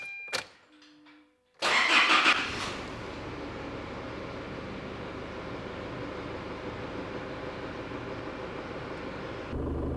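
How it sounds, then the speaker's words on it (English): A car engine starts and then idles steadily to warm up automatic transmission fluid, with a broad, even running rumble close by. "So let's start up the vehicle and get it up to temp."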